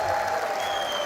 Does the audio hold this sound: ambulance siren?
no